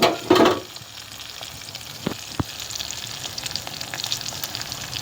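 Onions, curry leaves, coriander and crushed garlic sautéing in oil for a potato chickpea kara kuzhambu, with a louder stir and clatter at the start, then a steady low sizzle and occasional light utensil taps.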